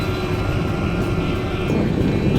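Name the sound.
helicopter flying low overhead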